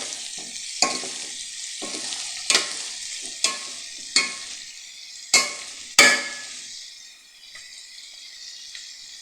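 Carrots, beans and broccoli stirred in a hot frying pan, with a steady sizzle punctuated by six or so sharp scraping strokes of the utensil at irregular intervals, then a quieter sizzle at the end.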